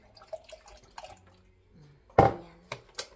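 Coconut milk poured into a cassava dish gives a few soft drips, then one brief, close splash and a couple of light liquid taps in an otherwise quiet kitchen.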